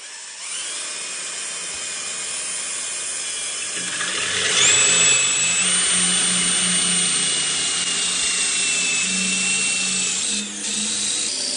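Power drill boring a hole through porcelain stoneware tile, a continuous high whining drone that rises and strains partway through, loud and close with no talk.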